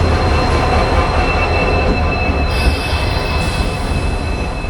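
A WDP4D diesel locomotive hauls a passenger train past, loud and close, with sustained high-pitched wheel squeal over a heavy rumbling roll throughout.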